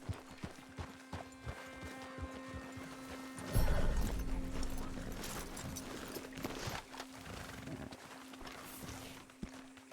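Horse hooves clip-clop at a walk in the Red Dead Redemption 2 game world, close and rhythmic, then a sudden louder burst with a neigh and scuffling before the steady hoofbeats resume alongside background game ambience.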